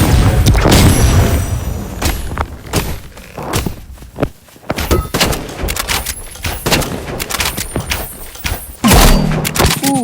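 Sniper rifle shots and heavy booms ring out in a shooting video game, several sharp loud blasts spaced irregularly among thuds and footsteps, with a final burst near the end.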